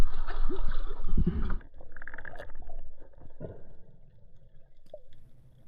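Water sloshes and splashes around a small spearfishing boat being moved forward against a light current, with low rumbling and a few knocks, fading quieter toward the end.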